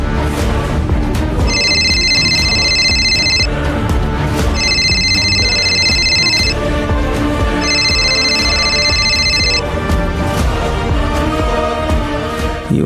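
An incoming call rings through a TV serial scene in three evenly spaced bursts of electronic ringing, set against a loud, busy background score.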